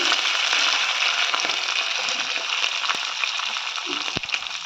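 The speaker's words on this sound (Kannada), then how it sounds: "ಚೆನ್ನಾಗಿ ಫ್ರೈ ಮಾಡ್ಕೊಳ್ಳೋಣ" Curry leaves, green chilli and onion frying in a pan, a continuous bright sizzle close by, with a few faint spoon taps and a sharper knock near the end.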